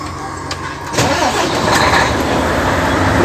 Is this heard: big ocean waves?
no